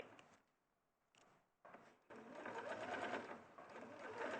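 Sewing machine stitching rick-rack trim onto fabric along a seam: quiet with a couple of brief starts, then a steady close whirring run that continues to the end.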